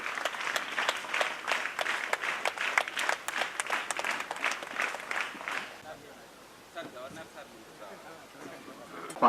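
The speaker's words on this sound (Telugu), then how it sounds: "గట్టిగా చప్పట్లు." Schoolchildren and guests applaud at a Rotary Club shoe distribution event at Mallaram ZP school, a dense burst of clapping that fades after about six seconds into quieter scattered claps and room noise.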